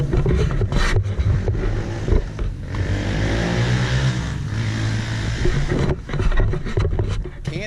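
Loud three-wheeler motorcycle driving past a home garage, an engine roar with rising and falling revving tones that swells and fades as it goes by.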